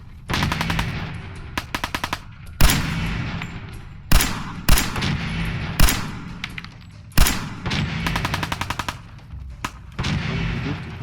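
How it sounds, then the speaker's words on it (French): Gunfire in the video game Fallout 4, loud rapid bursts of automatic fire mixed with heavy single booming shots, dense and continuous at close range with no talking. "On va vider toutes mes balles."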